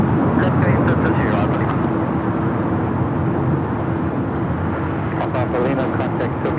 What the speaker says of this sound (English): That is a BAE 125 800A.